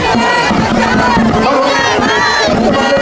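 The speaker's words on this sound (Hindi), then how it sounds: "देखिए भीड़ देखिए" A large, loud crowd shouts and cheers continuously at an outdoor election campaign gathering in Julana, Haryana, with overlapping voices filling the whole stretch.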